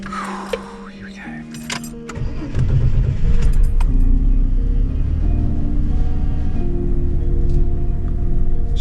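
An XE Falcon car engine cranks and catches after a few light clicks, then settles into a steady rumble and pulls away, revs rising as it drives off, close and fairly loud with voices around it.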